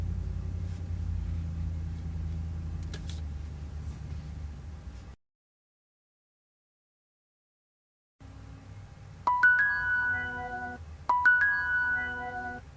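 Phone notification tones from a car-mounted Raspberry Pi camera setup in a Chevrolet Volt: two bright chimes sound in quick succession, each followed by a second alert a moment later, over a low rumble after a brief dropout.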